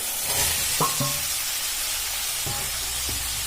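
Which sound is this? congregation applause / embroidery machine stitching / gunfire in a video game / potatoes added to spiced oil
potatoes added to spiced oil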